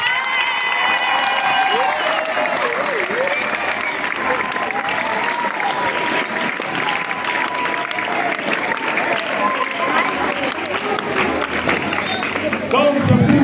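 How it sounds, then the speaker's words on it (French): Schoolchildren clap for themselves in a dense, sustained round of applause that runs unbroken throughout, mixed with excited voices and crowd chatter. "Acclamez pour vous-même."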